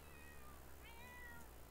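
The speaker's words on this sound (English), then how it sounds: "What is with these cats?" Several cats meowing in a video game, a few overlapping mews close by over a steady low background hum.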